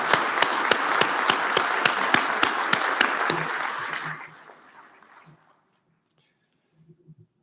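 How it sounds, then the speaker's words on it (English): An audience at a veterinary white coat ceremony bursts into a round of applause, loud and dense at first, then fading away to near silence, with faint voices murmuring in the room afterward. "So let's give them a big round of applause as well"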